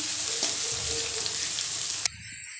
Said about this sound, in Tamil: இது அப்படியே ப்ரௌன் வர வரைக்கும் வதக்கி எடுத்துக்கணும்